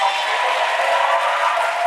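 A congregation claps steadily during a sermon, producing an even, moderately loud patter of applause that lasts throughout.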